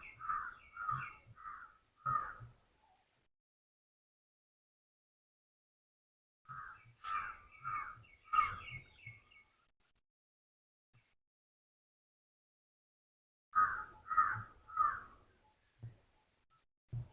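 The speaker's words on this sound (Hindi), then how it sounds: "इस समय का कौए पक्षियों का ये गान" Crows caw in open farm fields, three separate bursts of several harsh repeated calls each, spaced apart by quiet gaps, fairly close and clear with no talking.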